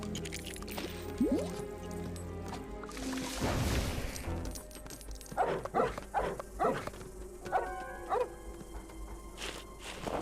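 In the Lego Harry Potter video game, a dog digs a hole with a run of short, squishy scraping and scuffing bursts in quick clusters, moderately loud over a soft ambient game background.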